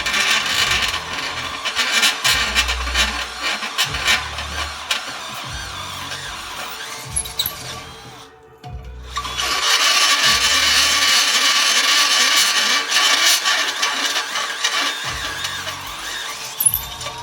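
A high-pitched grinding whine of a drill bit biting into stainless steel for car headers, running steadily for several seconds, pausing briefly, then resuming loud and close.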